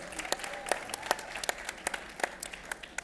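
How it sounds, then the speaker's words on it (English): Scattered applause from an audience at a panel discussion, with individual claps standing out in an uneven rhythm; the clapping is moderately quiet and thin rather than a full ovation, with no talking over it. "I'll take that applause."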